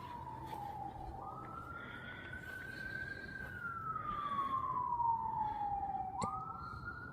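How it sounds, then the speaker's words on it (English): A police car siren wails steadily in a forest setting, its pitch sweeping slowly up and down as it draws nearer and grows louder, with faint ambient rustle beneath and no talking. "Now there's the police car coming in."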